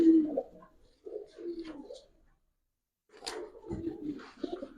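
Giribaj high-flyer pigeons give soft, close cooing calls in short bursts separated by brief pauses, with a quiet gap midway.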